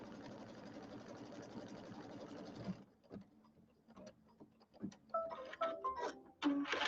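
A sewing machine quilting a small fabric penguin mug rug runs in a fast, steady mechanical chatter for about three seconds, then stops, leaving scattered clicks and handling noises.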